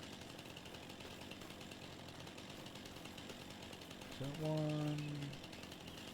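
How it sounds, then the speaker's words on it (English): A chainsaw runs in the Farming Simulator video game on the Judith Plains, Montana map, a steady buzzing drone filling the whole clip, while someone briefly speaks over it near the end. "Turn this chainsaw off as I'm looking, because I know that can get annoying listening to that chainsaw."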